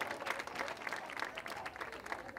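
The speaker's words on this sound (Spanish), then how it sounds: "vamos a darle un fuerte aplauso al representante" Quiet, distant crowd applause at a school celebration event in San Roque, continuous scattered clapping from many hands, faint in the room with no speaking over it.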